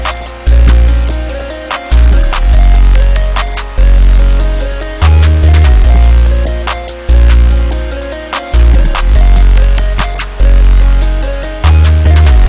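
A synthy trap beat pounds loudly, with booming 808 bass notes repeating every couple of seconds, rapid crisp hi-hats and bright synth layers looping, with no voices.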